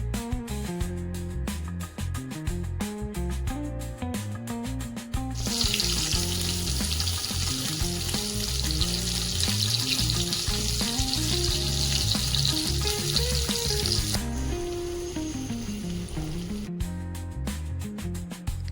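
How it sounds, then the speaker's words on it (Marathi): Paneer pieces fry in a little oil in a kadhai, browning on both sides. A loud, bright sizzle swells up in the middle and lasts several seconds, laid under continuous background music. "दोन्ही बाजूंना खरपूस असे भाजून घ्यायचे आहेत।"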